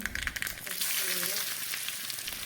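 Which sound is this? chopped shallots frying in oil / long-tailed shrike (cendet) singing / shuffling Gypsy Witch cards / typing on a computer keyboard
chopped shallots frying in oil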